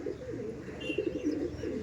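Rampuri pigeons, a male and female pair at a loft sale, coo softly and continuously in a low, murmuring rumble, close by with faint background noise and no talking.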